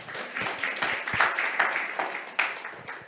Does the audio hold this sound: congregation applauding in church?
yes